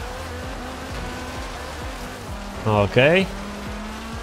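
Tires squeal briefly as a car drifts through a corner in the Forza Horizon 3 racing game, a short screech over a steady, sawtoothed engine drone, with someone speaking a single short word.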